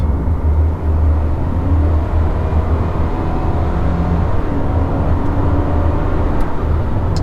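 A 2021 Subaru Crosstrek Sport in S mode accelerates: a loud, steady in-cabin engine and road rumble with a faint rising drone and no talk over it.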